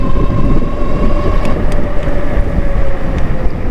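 Fabulous Havoc X2 bike pulling away hard from a standstill, a loud steady drivetrain whine and rumble with wind roar, close and continuous.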